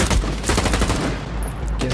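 Rapid machine gun fire in the shooter STALKER 2, a loud close burst of overlapping shots in quick succession that fills the whole moment with harsh crackling reports.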